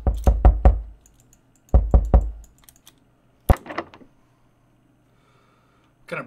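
In the game Dead Inside, someone knocks on a door in short sharp bursts of three or four quick raps, with pauses in between, then a single louder knock and a last faint tap.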